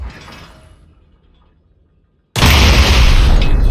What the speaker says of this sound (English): I can blow up rockets